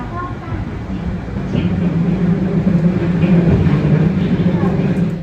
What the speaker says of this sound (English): our train switches to the Keio Takao Line, a branch line that's partially single-tracked